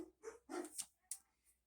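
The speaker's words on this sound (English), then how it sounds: "There's my dog barking." A dog barks a few times at middle distance, short sharp yelps spaced irregularly, fairly faint against a quiet room.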